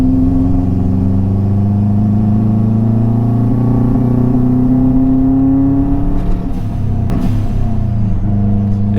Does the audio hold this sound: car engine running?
yes